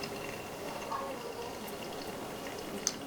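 Hot water poured in a steady center stream over ground coffee in a Hario V60 dripper, a soft continuous trickle and splash with faint drips, quiet and close.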